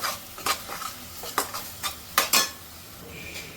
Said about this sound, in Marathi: गॅस फास्ट ठेवला आहे आणि थोडंसं परतून घेते